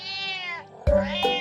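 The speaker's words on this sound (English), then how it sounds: "Listen to the cat." A cat meows in a drawn-out, harmonic cry, then gives a second shorter, louder meow after a brief pause, close and clear with no talk.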